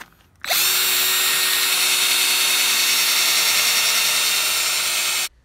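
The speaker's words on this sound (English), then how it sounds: "just kind of letting the weight of the drill kind of do the work here" A handheld drill fitted with a polishing pad works Meguiar's M2 Mirror Glaze Fine-Cut Cleaner into dull car paint, giving a steady, close, high-pitched motor whine that starts abruptly, holds evenly for about five seconds, then cuts off.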